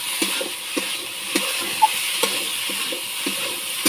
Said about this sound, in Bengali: এইভাবে এখন আলুটা ভাজি করব।